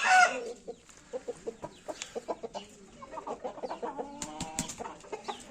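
Indian (Hint) roosters and chickens sunning outdoors give repeated clucks and short calls near and far, with a brief crow-like cry and scattered bird noises throughout.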